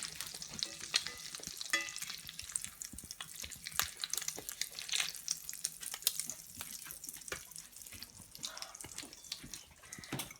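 French toast fries in a pan with a soft, continuous crackling sizzle and frequent small pops, close and fairly quiet, with no talk.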